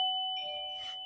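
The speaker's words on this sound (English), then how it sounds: "That's her bell to tell you she needs to go potty." A dog's potty bell gives a single clear, sustained ring that slowly fades, with faint jingling in the background and no voices.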